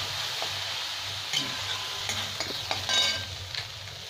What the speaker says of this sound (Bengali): এবার আমি চাউমিনটা দিয়ে দিলাম, একটু মশলা দিয়ে দেবো।